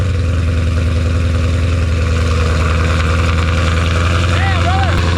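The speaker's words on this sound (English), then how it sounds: "Then we tied up the exhaust setup with a valved exhaust, quad tip, 5-inch." A 2024 Ford Mustang GT V8 with a Whipple supercharger and a 5-inch valved quad-tip exhaust idles with a deep, steady, close rumble, and a voice speaks briefly over it.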